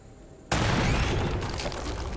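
Gunfire in Uncharted: Drake's Fortune on PlayStation 3 erupts suddenly after a quiet lead-in, a loud sustained burst of shots and booming noise continuing to the end.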